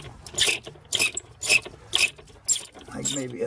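Rapid ratchet clicking from a 1/4 inch drive socket wrench, in repeated bursts about every half second, close and fairly loud, while installing a battery maintainer in a Roadtrek Simplicity motorhome.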